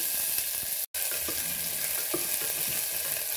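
Finely chopped onion fries in oil with popped mustard seeds and cumin for a horse gram curry, a steady sizzle under a few stirring scrapes, with one brief dropout.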